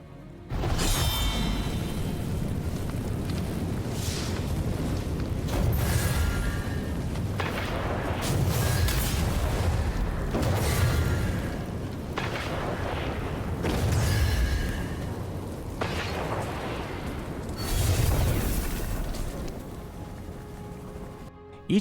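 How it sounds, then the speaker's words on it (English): A Warlock's solar ultimate in a video game, a flaming sword slicing the air and hurling crescent flames, heard as loud, dense whooshing fire blasts that swell repeatedly with roaring booms and fill the whole stretch. "Warlock's solar ultimate is a flaming sword, slicing the air, projecting a crescent flame to the target they seek to destroy."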